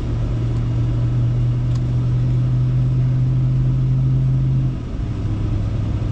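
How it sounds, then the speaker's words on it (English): A Ram TRX pickup truck cruises on a test drive at around 40 to 50 mph after a diff drop install, giving a steady loud cabin drone with a constant low engine hum that eases near the end. "I'm gonna do a test drive and we'll be back"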